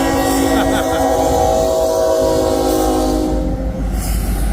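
A freight train carrying shipping containers rumbles past on Route 66 while its horn sounds in a long, loud, steady blast, with a continuous heavy rolling roar throughout.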